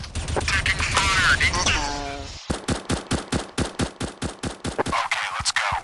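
Automatic weapon fire in the mobile game Chicken Gun, a rapid run of evenly spaced loud shots after a busy opening burst of mixed game noise.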